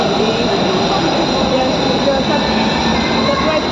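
A metro train at a Bangalore metro station, a steady loud rumble and whine of the carriages running continuously throughout, with faint background voices mixed in.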